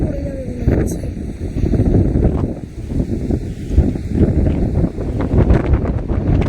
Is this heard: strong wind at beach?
yes